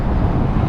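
Wind buffeting a microphone outdoors, a steady low rumbling roar that fills the whole brief moment with no break.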